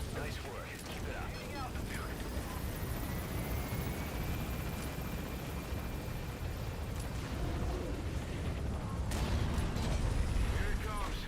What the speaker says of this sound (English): Here it comes. Use the chopper's minigun.